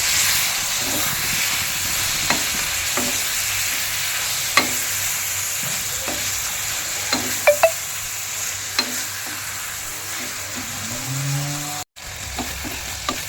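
Small fish with ginger-garlic paste and spices frying in oil for a rustic village-style dish with green tomato and potato: a steady close sizzle and hiss with occasional utensil scrapes and clicks while stirring, briefly cutting out near the end.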